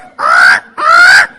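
A person imitates a rooster crowing with two loud, close, drawn-out honking calls separated by a short pause, sounding more like a goose than a real crow.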